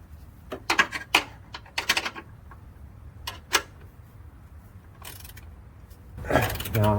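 A ratcheting wrench tightens suspension nuts on a Jeep Commander, giving a series of close, sharp clicking bursts in irregular clusters, with a longer ratcheting run at the end.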